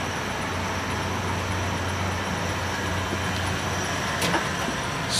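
The spindle of a Vectrax 11 x 18 inch variable-speed toolroom lathe runs with a steady mechanical hum and a faint high whine, holding constant at moderate loudness apart from a brief rattle near the end.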